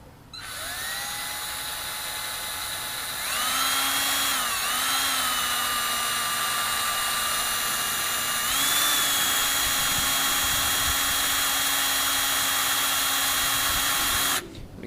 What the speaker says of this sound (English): And I'm just going to drill straight down real slow.